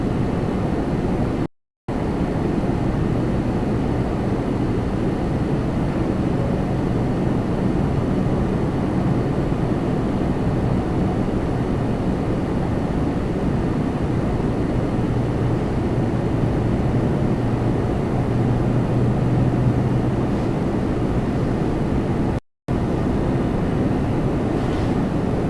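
A 20-year-old Airbus A320 on runway 24 right at Toronto Pearson gives a steady, loud, broadband jet roar that holds for the whole stretch with no voices, broken only by two brief dropouts.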